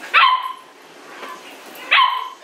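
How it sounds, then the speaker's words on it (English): A single dog barks twice, loud and close, with about a second and a half between the two sharp barks over a quiet indoor room hum; no one speaks. "Look at this crazy dog."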